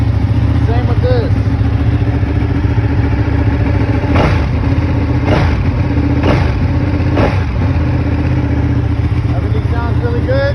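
A 2019 Ducati 959 sport bike on its stock exhaust runs steadily after a cold start, a loud, close, low idle broken by four sharp throttle blips spaced about a second apart.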